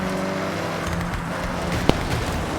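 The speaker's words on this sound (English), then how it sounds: "You can hear the engine has more power." A tuned car engine in the Forza Horizon racing game, driven flat out rally style, drones loudly and steadily with a buzzing, harmonic-rich tone and a brief sharp click near the end.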